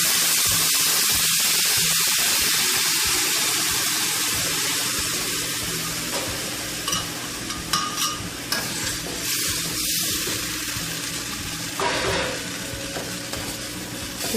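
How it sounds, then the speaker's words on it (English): Blender-whisked sauce sizzles and hisses in a hot pan while being stirred, with scraping and bubbling sounds close up. "Now to the pan, I'm going to add my sauce that we whisked up in the blender."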